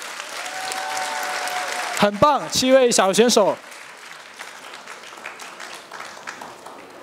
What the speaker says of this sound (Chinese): 来，我们的掌声送给他们，